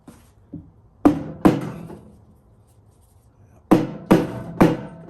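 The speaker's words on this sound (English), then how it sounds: "So, first option is the rubber mallet." Five dull, solid thuds of a rubber mallet striking a part of a Maytag Neptune washer, in two groups with a pause between, close and loud.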